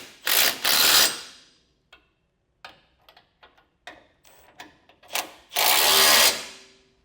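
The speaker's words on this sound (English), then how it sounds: "Then we'll take a 3/4 inch socket and snug these bolts down." A ratchet wrench with a 3/4 inch socket snugs down bolts on a Roadmaster crossbar-style base plate. Bursts of rapid clicking alternate with scattered single clicks and clanks, close and fairly loud, with no talk.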